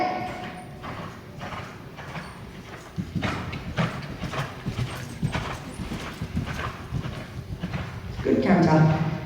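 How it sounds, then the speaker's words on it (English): A horse canters in an arena during a riding training session, and its hooves beat a steady rhythm under a trainer's talking. The beats grow more prominent after the first few seconds. "Good canter."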